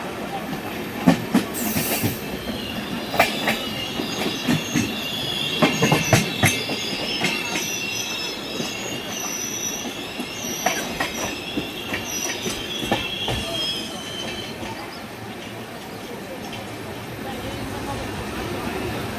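Radhikapur Kulik Express 13054 passenger train rolling along the rails between Prantik and Bandel, with steady wheel rumble, clattering joints and a few high squeals, heard from inside the moving train with some faint talk in the background.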